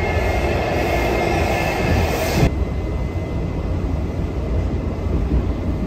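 A Washington Metro subway train runs with a steady, loud rumble of wheels on rail, brighter and harsher for the first couple of seconds before settling into a duller continuous roar, with no voices.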